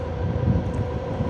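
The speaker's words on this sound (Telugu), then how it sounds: "మళ్ళీ ట్రైన్ కూడా స్టార్ట్ అయిపోయింది" A train getting under way, a steady low rumble and rolling drone, fairly loud and continuous with no talk over it.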